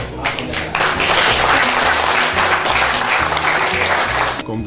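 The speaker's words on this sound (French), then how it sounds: "demande de ma part qu'on témoigne, s'il vous plaît, un applaudissement" An audience at a farewell ceremony applauds loudly and continuously for several seconds, full rhythmic clapping that fills the room before stopping abruptly at the end.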